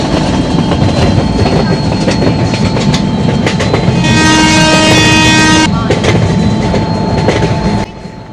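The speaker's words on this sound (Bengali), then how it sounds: "ভুবনেশ্বর স্টেশনে ঢুকছি।" In a train video game, a train rolls into Bhubaneswar station with a loud, steady rumble and rhythmic wheel clatter, and a sustained tonal blast sounds partway through.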